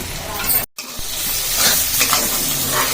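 Chicken liver fry being stirred in a pan, a steady close sizzle with scraping strokes, briefly cut off by a short gap near the start, then continuing evenly.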